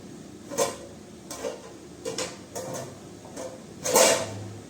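A lid set onto a cooking pot of bitter gourd curry, a few sharp metallic clinks and knocks at irregular intervals, close and fairly quiet against faint room noise.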